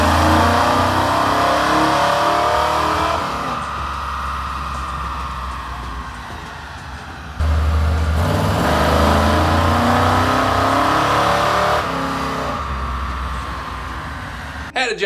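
Car engines revving on a mobile rear-wheel dyno at a large Mopar car meet, loud and sustained with surges and drops in pitch, heavy low rumble throughout.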